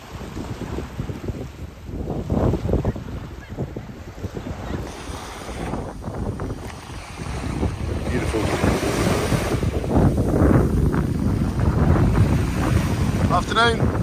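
Surf breaking steadily at Jaws Beach with gusting wind buffeting the microphone, a broad continuous roar that builds louder in the second half, no voices.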